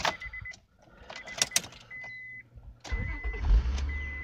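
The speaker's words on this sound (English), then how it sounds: "Now let's see if the battery will start this car." A Chevrolet Cavalier sounds several warning chime beeps, then its engine cranks and fires into a close, low idling rumble as the chimes continue.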